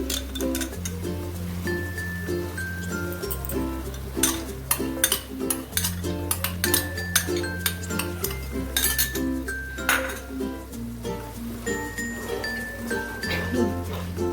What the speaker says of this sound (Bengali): আমি ভালো করে নাড়াচাড়া করব যতক্ষণ না তেল রিলিজ করে